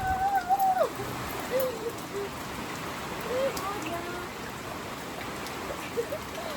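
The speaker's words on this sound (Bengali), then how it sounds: "জোরে জোরে বৃষ্টি হচ্ছে" Heavy rain pours steadily as a broad, continuous hiss, with a few faint voices and bird-like calls surfacing briefly above the downpour.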